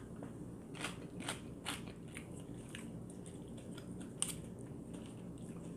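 Close, crisp crunching as someone bites and chews papaya salad with crunchy pork rinds, radish and eggplant, several distinct bites spaced across a quiet room background.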